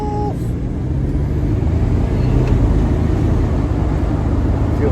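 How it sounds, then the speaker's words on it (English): A 1987 Buick Grand National drones continuously from inside the car, a dense low engine roar with a faint thin whine riding above it, steady and loud throughout. "Feel that turbo spool."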